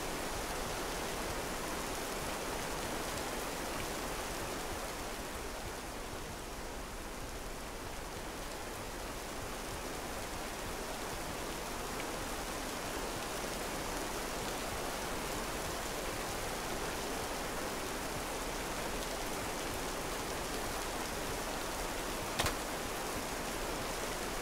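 Steady rain pours at night in a frontier-style video game, a dense continuous hiss that stays even throughout, with no talking.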